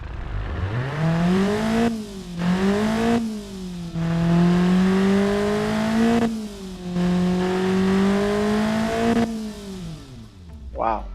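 A modified car engine, a stock engine built up into a tuner engine and likened to the Toyota AE86 Corolla engine, revs repeatedly. The pitch climbs and sags in rising and falling sweeps, loud and close, with brief dips between pulls.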